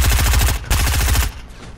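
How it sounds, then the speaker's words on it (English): Rapid bursts of SMG fire in Fortnite squads gameplay, loud and close, two fast rattling volleys back to back before cutting off into quieter game ambience. "as soon as I hear that stupid SMG"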